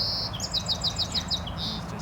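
A small sparrow sings nearby outdoors, a bright rapid series of repeated chirping notes in a quick rhythmic trill, clear and close over a low background hum.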